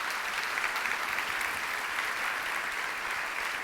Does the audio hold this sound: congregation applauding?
yes